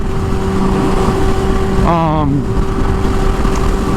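A motorcycle with a newly fitted K-Tech 35DDS Pro rear shock, ridden out to a bike night in Louisville, holds a steady engine drone under constant wind rush, with a brief rising-and-falling rev swell near the middle.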